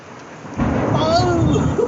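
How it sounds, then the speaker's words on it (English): A deep roll of thunder from a lightning storm in Mississippi swells suddenly and rumbles on loud and close, with rain falling through it and no speech. "we're having a thunder roll"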